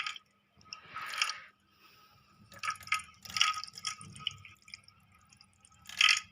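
Water poured over a small Laddu Gopal idol with flowers during a bath, heard as several close, wet splashing and dripping bursts separated by short pauses.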